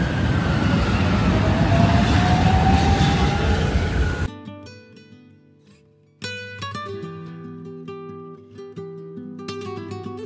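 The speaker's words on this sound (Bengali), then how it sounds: "পিছনেও ট্রাম যাচ্ছে আমার।" A tram rolling past on a street in Brno, Czech Republic, as a loud broadband rumble with a rising squeal for the first four seconds, then giving way to music.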